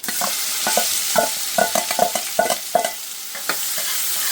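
Mustard seeds and fresh curry leaves sizzling in hot ghee for a South Indian Madras curry, a soft frying hiss broken by a series of sharp crackles and pops as the pan is stirred.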